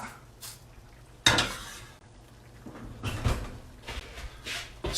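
French onion soup pulled out of a hot oven, with a sudden clattering clank of dish and rack, then scattered scrapes and knocks of cookware, close by.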